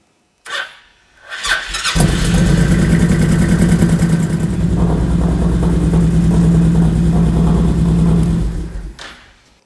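A 2005 Honda VTX 1800 motorcycle engine cranks briefly, then catches and settles into a loud, steady, throbbing idle close by before cutting off at the end, with no talking.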